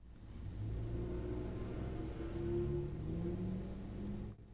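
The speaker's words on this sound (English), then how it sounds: "I don't know if you heard that vehicle, but thank you so much for waiting until I was done to rev your engine there" A vehicle engine revs outdoors, a steady mid-pitched rumble that swells and holds for several seconds at moderate distance before cutting off abruptly near the end, with no talking over it.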